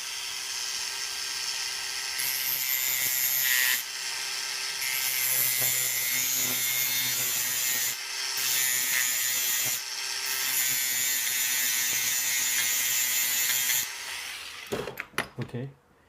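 A plastic cutter trims a Tamiya Mini 4WD plastic part with steady close scraping and rasping. Short breaks split the cutting into several strokes, and a few clicks and taps follow at the end.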